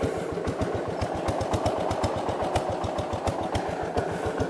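A 1969 Gravely 430 tractor engine runs steadily nearby with a fast, uneven, loping chug, as if flooding after a carburetor adjustment, loud and alone.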